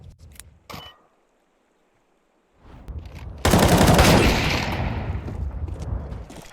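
Gunfire in a competitive Counter-Strike match: a few quick shots, a brief silence, then a long, loud, sustained burst of automatic fire with dense rapid cracks fading slightly toward the end.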